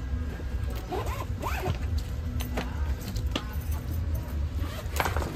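A suitcase's double anti-theft zipper is pulled in several quick rasping strokes, close and clear, over a steady low background hum.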